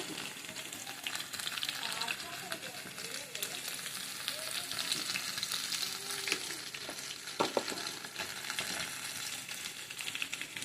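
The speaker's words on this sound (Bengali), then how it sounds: "সব আনাজগুলো একটু ভাজা ভাজা হয়ে গেছে" Steady, close sizzling of vegetables frying with turmeric in a pan, with scattered clicks and scrapes from stirring throughout.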